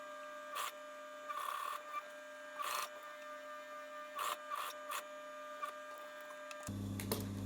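A sewing machine stitches around the edge of a fabric face mask in short, repeated mechanical bursts of whirring, each separated by brief pauses over a steady low hum, ending in a louder rattling run.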